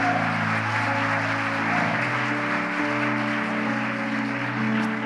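A church congregation applauds over sustained organ or keyboard chords, forming a steady wash of clapping beneath the music for the whole stretch.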